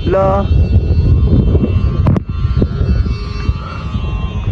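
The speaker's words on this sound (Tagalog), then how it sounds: "Ang lakas ng hangin." Strong wind buffets the microphone outdoors while kites fly high, a steady loud roar throughout with a brief sharp knock near the middle and faint voices underneath.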